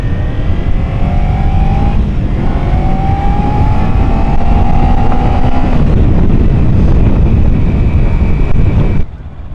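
A 2013 Kawasaki Ninja 300 motorcycle being ridden, heard as a loud engine drone with rising pitch under heavy wind buffeting, ending in an abrupt drop.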